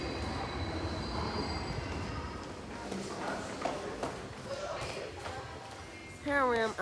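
London Underground Bakerloo line train at a northbound platform, a rumbling, rattling roar of carriages with clattering wheels beneath a person speaking, followed by a rising high whine near the end.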